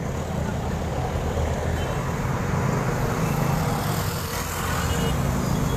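Continuous roadway traffic noise with a motorcycle passing, a steady engine drone and rumble throughout, with a voice faintly present.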